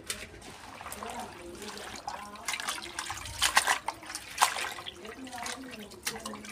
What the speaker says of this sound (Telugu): ఇప్పుడు ఒక పాత్ర తీసుకొని నీళ్లు వేసుకొని ఈ గోంగూర మనము శుభ్రంగా కడుక్కోవాలండి.